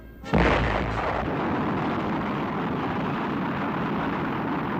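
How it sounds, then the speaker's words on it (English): A cartoon rocket blasts off with a sudden loud roaring burst that swells and then settles into a sustained, dense rumbling roar lasting several seconds, heard alone without voices. "4, 3, 2, 1, blast off."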